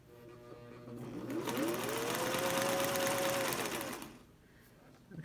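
A sewing machine runs a zigzag satin stitch in one continuous whirring burst of a few seconds, rising in and then dropping away to quiet, close and fairly loud.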